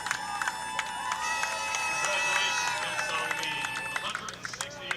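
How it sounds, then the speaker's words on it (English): A crowd at a boys' high school lacrosse game cheers and shouts after a goal, a dense roar of many voices and whistles lasting several seconds before easing off. "you see the crowd going crazy"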